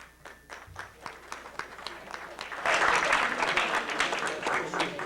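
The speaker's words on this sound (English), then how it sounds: "let's give a nice round of applause" Applause at a village flood meeting in Mamaroneck, starting as scattered claps and swelling into fuller, louder clapping from the room partway through, with a voice faintly underneath.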